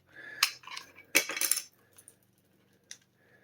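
Loose manufacturing debris rattles and clatters inside a hollow plastic wireless game controller in two brief bursts, close up, followed by a few faint isolated ticks.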